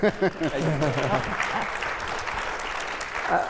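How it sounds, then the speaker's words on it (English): A conference audience at a networking event breaks into applause. A voice speaks briefly at the start, then a sustained, moderately loud patter of many hands clapping fills the rest. "You can clap."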